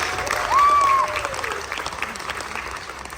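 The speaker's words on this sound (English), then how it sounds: "One more big round of applause for both of my volunteers." Applause from a live science show audience at Science Museum Oklahoma, a steady wash of clapping with a brief tonal whistle-like sound early on, fading slightly toward the end.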